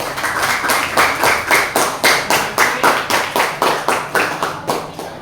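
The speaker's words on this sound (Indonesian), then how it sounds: "Ya, boleh tepuk tangan buat kelompok 4." A classroom audience claps for a presenting student group, steady rhythmic clapping of about twenty evenly spaced beats that fades slightly at the end, loud and close with no talk.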